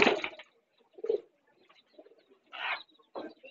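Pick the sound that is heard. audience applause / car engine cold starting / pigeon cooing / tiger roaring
pigeon cooing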